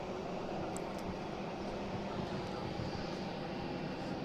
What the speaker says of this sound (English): I got a JetBlue coming in here too